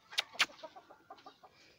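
Meat-breed pullets and roosters cluck softly in a barnyard, with two sharper calls at the start and then a run of quiet, rhythmic clucks at moderate distance.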